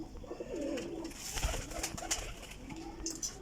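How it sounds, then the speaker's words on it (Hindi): Teddy golden Ferozpuri pigeons coo softly and continuously at close range, with low murmuring calls under a busy background of rustling and faint noise. "बड़े साइज़ां दे कबूतर, बहुत कीमती कबूतर।"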